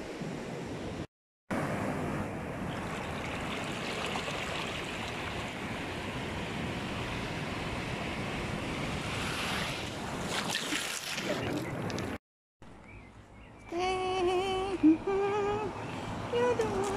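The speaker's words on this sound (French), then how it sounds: "On est sur la plage Coclés." Ocean waves wash steadily onto Cocles beach in a continuous roar with wind buffeting the microphone, a brief cut midway, then a more broken surf texture at the end.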